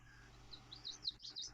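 Faint high bird chirps tweet several times in quick succession over a quiet, low background hum.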